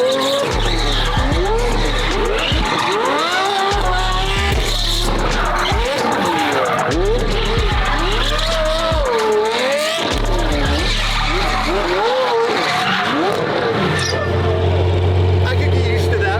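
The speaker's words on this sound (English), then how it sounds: "You can hear the way they're squealing." A Ferrari 599's tires squeal and skid as it drifts, loud, wavering screeches rising and falling over the engine roar in repeated bursts, with people talking throughout.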